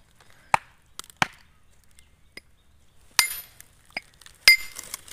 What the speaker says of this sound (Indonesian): inilah tahap awal proses pendonggalan serut batu.